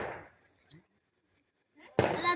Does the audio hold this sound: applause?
no